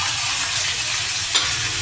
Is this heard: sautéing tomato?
yes